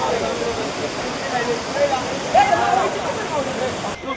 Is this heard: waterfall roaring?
yes